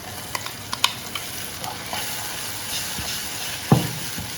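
A spoon scrapes and taps in a frying pan while chili chutney sizzles steadily underneath, with a sharper clank near the end.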